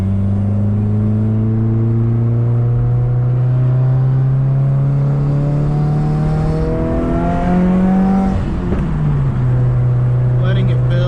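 Tuned 2015 Subaru WRX with a 400-horsepower FA20DIT turbo engine pulling hard under acceleration, loud and close from inside the car, its tone climbing steadily before a gear change briefly dips it, then rising again.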